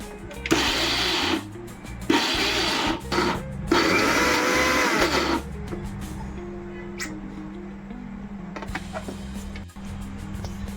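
A kitchen mixer grinder whirs loudly in two bursts, about two seconds each, as it grinds a banana flower mixture with salt for a tempered stir-fry, then fades into a low background hum.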